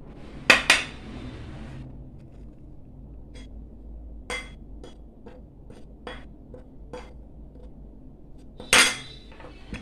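A spoon strikes a bowl while flour and water are mixed into vermicelli dough, giving a few sharp, close clinks and scrapes spaced over quiet moments, the loudest near the start and end.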